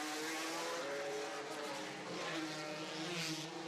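Formula 3 race car engines roar and whine steadily at close range, several motors overlapping in a continuous loud drone with shifting pitch, at the 2010 Macau Grand Prix.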